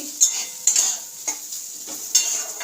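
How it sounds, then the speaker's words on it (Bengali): Fried potatoes (aloo bhaja) are reheated in a pan, with a light sizzle and a few sharp utensil scrapes and clinks spaced roughly half a second apart. "এখন এই রান্না করার সময় গরম করা আলু ভাজাটা গরম করছি"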